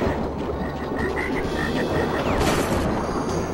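Frog croaks from Crash Bandicoot 3: Warped, a run of short, evenly spaced calls over a steady, busy game background.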